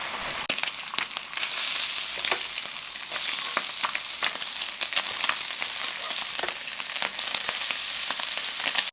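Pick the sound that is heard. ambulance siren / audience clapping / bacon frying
bacon frying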